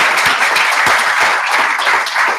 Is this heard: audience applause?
yes